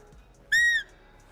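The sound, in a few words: birds calling in video game theHunter Classic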